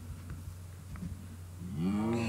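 A low Minecraft cow moo rises near the end over a steady background hum, drawn out and fairly close.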